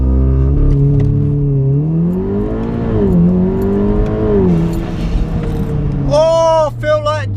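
A remapped VW Golf R launches and pulls hard, its engine note rising and falling as it accelerates under a loud, steady roar, with an excited voice whooping over it toward the end.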